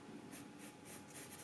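Pencil scratching across paper while sketching a cartoon robot, soft repeated strokes in short rhythmic bursts, close and quiet with no voices.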